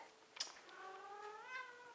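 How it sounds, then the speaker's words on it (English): A cat in heat lets out one drawn-out, wavering meow, quiet and somewhat distant, in an otherwise calm indoor space. "We got a couple of cats in heat again."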